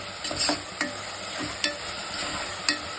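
Turmeric powder being stirred into masala upma in a pan: a soft frying sizzle throughout, with four distinct spoon scrapes spaced about a second apart.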